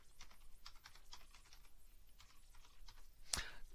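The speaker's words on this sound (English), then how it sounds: "what I could do is I could type in" Quiet, rapid tapping on a computer keyboard while entering lettering in embroidery software, close and soft, with irregular keystrokes and one sharper click near the end.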